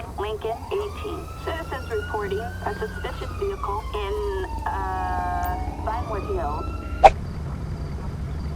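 An ambulance siren in the video game GTA V wails in rising and falling electronic sweeps, loud and continuous across the whole stretch, with a short sharp click near the end.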